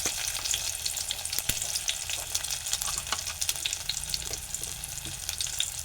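Mustard seeds and cumin sizzle steadily in hot oil, a dense continuous crackle with sharp pops and spits scattered throughout, close and alone with no talk.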